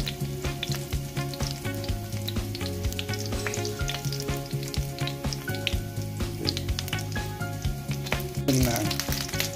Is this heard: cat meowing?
no